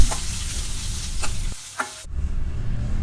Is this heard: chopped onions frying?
yes